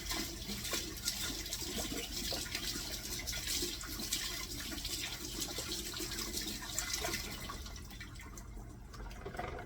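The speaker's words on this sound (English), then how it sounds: "So the first thing I'm gonna do is wash my meat" Running tap water pours steadily over thawed pork meat being washed in a sink, a continuous close splashing rush that thins out near the end.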